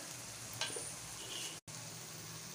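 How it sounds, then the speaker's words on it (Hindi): Tomatoes fry in a pan with achar masala, garlic powder, ginger powder and chaat masala as they are stirred, making a steady, soft sizzle with a faint scrape of the spoon and one brief cut in the sound. "उसको भून लेंगे टमाटरों के साथ"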